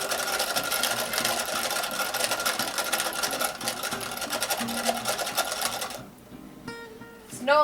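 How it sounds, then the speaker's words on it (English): A ball winder whirs steadily as it winds freshly spun 2-ply yarn off a spinning wheel, a continuous mechanical hum with a rhythmic clatter that stops abruptly after about six seconds, leaving quiet rattles. "wrap it onto the ball winder, and then ready to go ahead and wind right off of my wheel"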